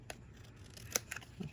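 Scissors snip through paper for a handmade card with a few quiet, sharp cuts spread over a moment. The snips are faint and close-up against a low background hum.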